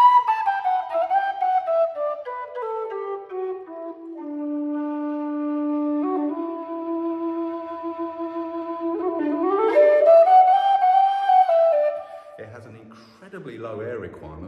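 A low, breathy Kerry low D tin whistle plays a slow melody of sustained, warm notes that slide and change pitch, ending with a brief quick flourish.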